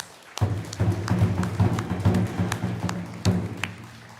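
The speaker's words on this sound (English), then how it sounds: "Yes, round of applause." Audience applause at a Native graduation honoring ceremony, a scattered round of claps and taps that starts abruptly and continues unevenly, with some low thumps.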